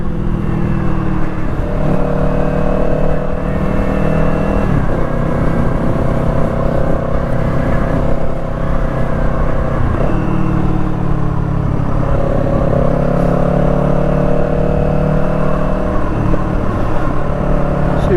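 A Kawasaki Eliminator small cruiser motorcycle engine pulls steadily while riding, a loud continuous low drone that rises in pitch through each gear and drops at shifts around every five seconds, with no talk.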